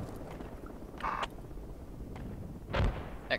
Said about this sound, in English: Explosions on the hill to your east.